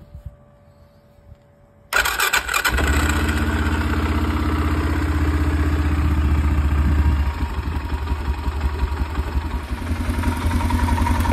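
An Arctic Cat TRV 700 SE ATV from 2016 cranks and fires up after an oil change, then settles into a steady, close idle with a faint high whine.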